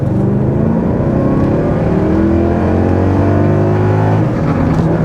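A BMW 540i E39 V8 with a manual gearbox holds a loud, steady high-rev roar, the engine pinned near its rev limiter with wavering harmonics throughout, heard close and without talk.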